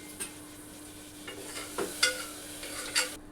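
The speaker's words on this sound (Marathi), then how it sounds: "अभी इसके अंदर डालेंगे हम थोड़ा पानी" Water poured into frying masala for khichdi gives a hiss and sizzle with a few scraping, stirring knocks, moderately close and without talk.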